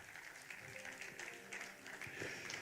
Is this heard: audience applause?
yes